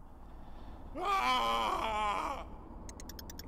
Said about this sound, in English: Was that Paul screaming